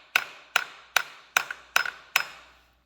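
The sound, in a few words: tapping with a hammer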